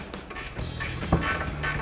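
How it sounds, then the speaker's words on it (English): An 18mm ratchet wrench tightening the outer tie rod nut on a 2005-2010 Mustang front end, a few quick mechanical clicks and creaks in short bursts, close and alone. "Then we'll use our 18mm ratchet wrench to tighten this back down."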